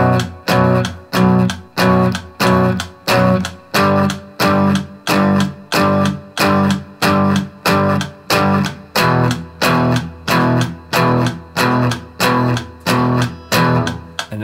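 Distorted electric guitar plays a chorus on the 6th, 5th and 4th strings, hitting short, even chords on beats 2 and 4 in a steady, repeating pattern, up close with no talking.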